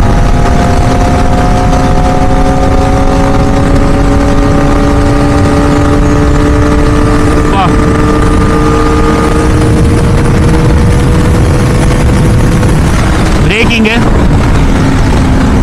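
A 2025 Kawasaki ZX4RR motorcycle engine accelerating on the road, a loud, close, high-pitched inline-four whine climbing steadily through the revs with shifting tones and wind rush, continuous throughout.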